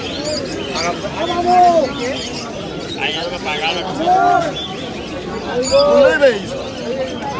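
Pigeons coo in a few repeated, rising-and-falling calls amid background chatter and crowd noise at a pigeon market in Uluberia, India.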